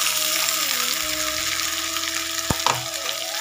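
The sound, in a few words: spice paste sizzling in frying pan with vegetables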